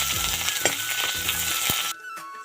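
Chopped onions frying in hot oil in a wok after bay leaves go in, a steady close sizzle with a few stirring clunks; the frying noise drops sharply near the end.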